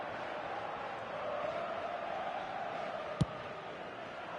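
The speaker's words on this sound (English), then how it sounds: "the crowd are reacting to that now" A stadium crowd in an eFootball 26 match on PS4, a steady, swelling roar of many voices with commentary over it, broken by one sharp click near the end.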